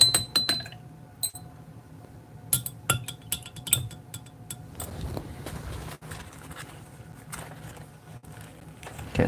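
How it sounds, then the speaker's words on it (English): A paintbrush being rinsed in a small jar of water, giving light clinks and taps of bristles and handle against glass, scattered irregularly over a soft watery background, close and fairly quiet, with no speech. "now it's time to just quickly rinse that brush out"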